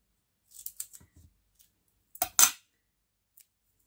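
Small scissors snip paper for a miniature Christmas gift album, a quick cluster of light cuts followed after a pause by two sharper, louder snips, close and crisp.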